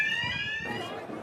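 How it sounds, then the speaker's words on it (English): Shop alarms ringing in stores broken into during street rioting: a sustained, piercing electronic tone holding steady and alone, briefly shifting pitch partway through. "By the evening, there was just the sound of the alarms in shops that had been broken into."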